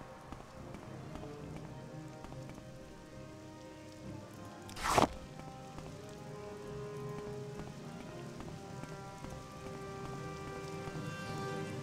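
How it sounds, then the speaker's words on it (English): Steady rain in The Elder Scrolls III: Morrowind, a continuous hiss of falling drops throughout, interrupted once midway by a brief sharp burst of noise. "Well, I'm already soaked, so I suppose it's as good a time as any to rain."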